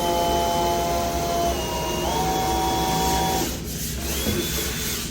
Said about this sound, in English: We're about to drill a bunch of big holes in the bottom of the boat.